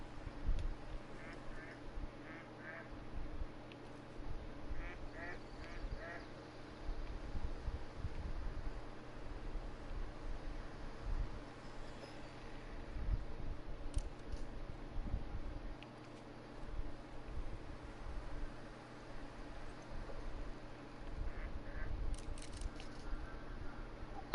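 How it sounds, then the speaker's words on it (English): In theHunter: Call of the Wild, ducks give short bursts of quacking in scattered clusters over a low outdoor ambience, moderately distant and faint, without any speech. "Oh, there's ducks. See them?"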